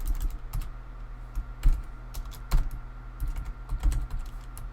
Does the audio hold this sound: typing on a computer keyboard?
yes